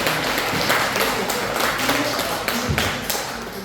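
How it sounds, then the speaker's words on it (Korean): Audience applause at a Lions Clubs forum in a tenth-floor conference hall: a steady wash of clapping hands sustained across the whole stretch, with voices mixed in underneath. "뜨거운 박수 보내주시죠"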